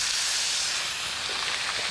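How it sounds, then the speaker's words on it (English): Arctic char fillet sizzles in hot oil in a pan, a steady, fairly quiet broadband hiss that holds evenly throughout with no talk over it. "Right away you start to hear that really, really good sizzle"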